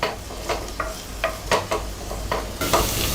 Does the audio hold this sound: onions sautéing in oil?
yes